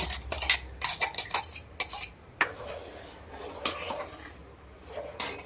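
Milk being stirred in a metal pot for basundi, with quick clattering scrapes and taps of a spoon against the vessel, busy at first and then sparser and softer.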